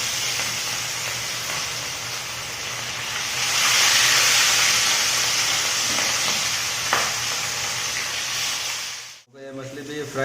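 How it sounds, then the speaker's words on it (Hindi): Fish pieces for a spicy masala fish curry sizzling in hot oil, a dense continuous hiss that swells in the middle and then cuts off near the end, close up. "अभी फिर जो बचा हुआ मछली था वो भी फिर फ्राई कर लेंगे साथ में।"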